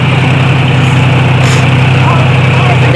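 Tractor engine running during paddy threshing, with a loaded trolley nearby: a loud, unbroken low diesel drone that fills the whole stretch, heard close up.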